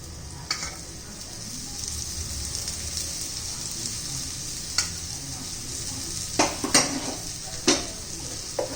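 Bitter gourd slices fry in oil, a constant close sizzle broken by a few sharp scraping and clattering utensil hits against the pan.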